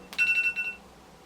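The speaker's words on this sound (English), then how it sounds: "That's my alarm." A phone alarm gives a short burst of bright, rapidly pulsing electronic beeps that stops after under a second, close and clear in a quiet room.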